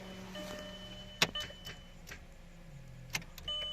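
A VW car's electric power window motor hums faintly as the glass rises, with a couple of sharp clicks and knocks from the door along the way.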